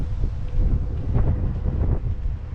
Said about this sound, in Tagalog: Ang lakas ang hangin.